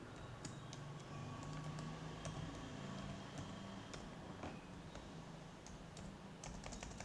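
Keys tap steadily on a computer keyboard as JavaScript code is entered, irregular quick clicks over a constant faint room hum, with no talking.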